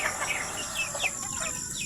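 Young breeder hens cluck and chirp faintly in short bursts against a steady background hiss, with no one speaking.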